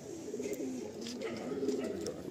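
A Kolkata old-line Giribaj pigeon coos softly and steadily at close range, with low rolling calls that continue without pause under a faint background hiss.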